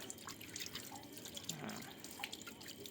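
Water is splashed over a dirty 2024 Honda Vario 125 motorcycle, a faint continuous trickling and spattering with small drips, quiet and close with no talk.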